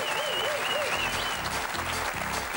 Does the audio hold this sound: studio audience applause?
yes